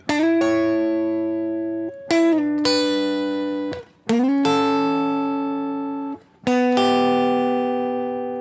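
Bright electric guitar phrases with sustained, bending notes in a bluesy feel, played alone in a few short bursts with pauses between.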